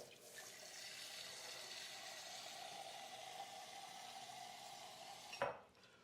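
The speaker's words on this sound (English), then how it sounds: "And now it's time to add my water." Water pours steadily into a pot for cooking comfort food, a continuous splashing stream lasting several seconds close to the microphone, then ending with a brief clunk as the pouring stops.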